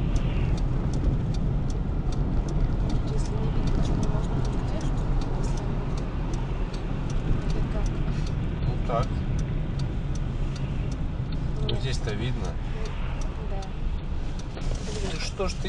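A car accelerates as the driver gives gas during a driving lesson on a Khabarovsk route. A steady engine drone with road noise runs under ongoing conversation inside the vehicle.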